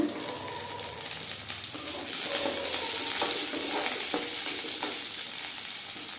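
Green chilies fry in oil in a pan for a mushroom gravy, giving a continuous close sizzle with faint stirring scrapes and no talking.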